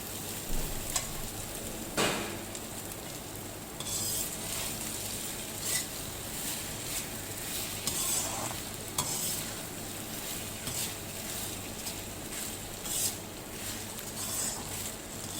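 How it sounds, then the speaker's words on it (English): Rice is stirred and tossed in a pan of sizzling tempering with fresh curry leaves, a steady frying crackle broken by repeated scraping stirs and light clinks throughout, with no talking. "I am going to add the rice and toss the rice in the tempering."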